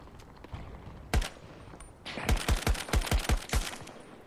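Battlefield gunfire in a multiplayer match: an isolated shot, then a rapid string of about seven sharp single-fire rifle shots, loud and close, with no talking.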